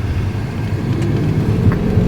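A 2008 Jaguar XJ long-wheelbase V8 pulls with a steady, moderately loud low growl that holds evenly for a couple of seconds without any talk.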